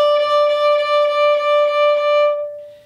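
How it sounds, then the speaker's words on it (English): A violin sustains a single steady note for nearly three seconds, bowed with smooth, barely audible bow changes so the tone keeps resonating evenly before it fades, played alone. "smooth bow changes like this"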